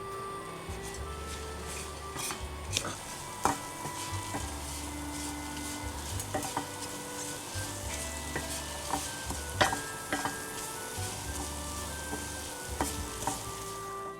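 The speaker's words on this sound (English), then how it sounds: "And we close the lid and we let it fry." Teriyaki salmon fries in a lidded pan over medium heat, giving a soft continuous sizzle with a low hum beneath and scattered small crackles and taps.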